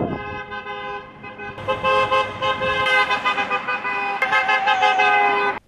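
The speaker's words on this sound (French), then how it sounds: "Gaël a eu envie de klaxonner dans tout Oswald." Car horns honk loudly and repeatedly at a wedding celebration, several overlapping blasts of varying pitch sounding close by for several seconds.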